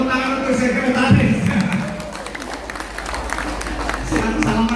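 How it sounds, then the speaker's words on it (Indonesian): An audience at a community PKK gathering in Kandangan Benowo, Surabaya claps for a visiting secretary, a brief patter of applause mixed with close-up voices talking over it. "Boleh tepuk tangan untuk sekretaris."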